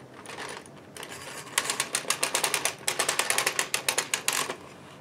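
Ultimate Sweater Machine knitting carriage pushed across a row of waste yarn, a quick run of rhythmic mechanical clacks that starts after a brief pause and stays close and clear with no voices.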